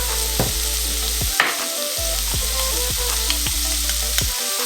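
Garlic sizzles and fries in a pan for a chickpea curry with coconut milk, a loud, steady crackle broken by a few stirring scrapes, with no talking.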